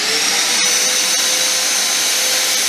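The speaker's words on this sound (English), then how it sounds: "So the next thing to do is turn the vacuum on," A vacuum cleaner runs steadily and loudly, with a high whine over a broad roar. It is used to pull loose ballast along model railroad track.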